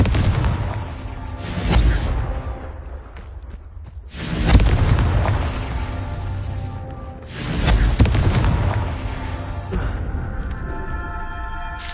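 Confringo blasting curse explosions in the Hogwarts Legacy video game, three loud booming blasts spaced a few seconds apart, each with a lingering rumbling tail and no talk.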